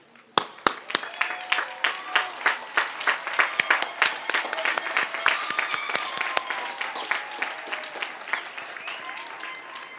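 Graduation ceremony audience breaks into sustained applause, starting with a few scattered claps and swelling into dense, steady clapping from a large crowd that carries on for the whole stretch.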